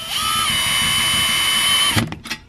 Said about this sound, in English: We're going to take our drill.